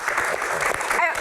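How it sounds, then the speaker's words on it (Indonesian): A studio audience at a Q&A show about rally racing claps in a brief, dense burst of applause, with a voice talking over it. "Tepuk tangan dong."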